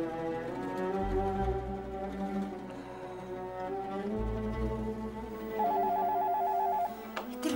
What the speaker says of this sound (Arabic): التليفون بيضرب